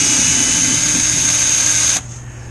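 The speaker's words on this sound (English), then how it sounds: "another day with the slow-ass drill" A slow power drill whines steadily at one high pitch for about two seconds, close and loud, then cuts off, leaving a quieter hum.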